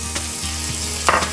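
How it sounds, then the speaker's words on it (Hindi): Onion added to garlic frying in a pan for fusion fusilli pasta, a loud continuous sizzle with a couple of brief stirring knocks, close up and without talk. "गार्लिक थोड़ी फ्राई हो चुकी है और इसमें से बहुत ही अच्छी खुशबू आ रही है। अब हम इसमें ऐड करेंगे प्याज"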